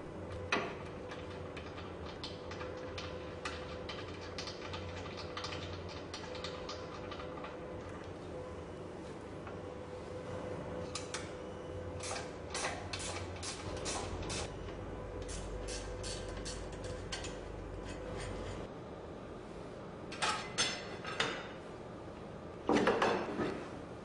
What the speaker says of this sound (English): Two bolts connecting the middle support are then removed.